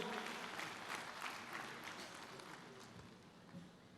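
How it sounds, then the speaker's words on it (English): Audience applause for guests at a district conference gathering, a steady wash of clapping heard faint and distant throughout, with no talk over it. "give a big applause to our guests from District 3230."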